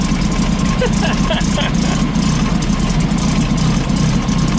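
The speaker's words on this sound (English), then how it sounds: "we'll let the engine warm back up just for a moment" A 1915cc VW Manx dune buggy engine idles in a steady, even rumble after a distributor fix. The engine is close and loud, with a constant low throb and no revving.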